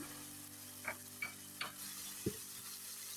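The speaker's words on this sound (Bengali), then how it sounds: "তারপরে ভালো করে আমি একটু নেড়ে চেড়ে দিচ্ছি।" Potatoes with salt, turmeric and cumin are stirred in a pan, giving four soft scraping taps of the spoon over a quiet, steady sizzle.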